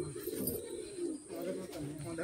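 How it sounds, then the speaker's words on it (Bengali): Giribaz pigeons held in a sale coop give low, soft cooing phrases, with someone talking nearby. "এটা গিরিবাজ পায়রা"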